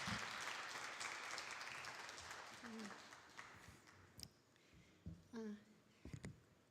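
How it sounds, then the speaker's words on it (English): Audience applause at a climate health symposium in a conference hall, a broad steady patter that fades over several seconds, followed by scattered thumps and a brief voice at the end. "please welcome me joining her with big applause"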